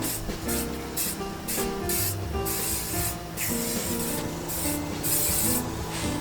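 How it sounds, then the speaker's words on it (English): UV protectant sprayed from a can onto a 15-foot outdoor animatronic scarecrow prop, heard up close as a run of short, loud hissing bursts with brief gaps between them and no talking. "So I am UV spraying him down."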